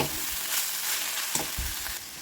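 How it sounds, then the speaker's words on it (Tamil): Ginger garlic paste sautéing in a hot pan for a cabbage masala, a dense continuous sizzle with a few soft scraping stirs, close and fairly loud with no talk. "அதை வந்து குறப்பாக அரைச்சி எடுத்து வச்சுருக்கேன். அதில் சேர்த்து நல்லா வதக்கிக்கலாம்."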